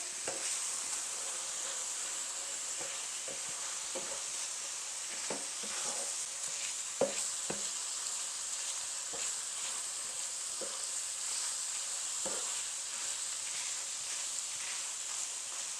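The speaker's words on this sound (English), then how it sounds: "we're going to cook for 1 minute just to sweat the seasonings, which lets a little bit more flavor out of them" Ground beef and seasonings sizzling in a pan for one-pot stroganoff, a continuous close sizzle with scattered stirring scrapes and clicks and no talking.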